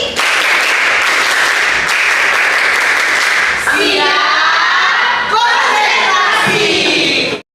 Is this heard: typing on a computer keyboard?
no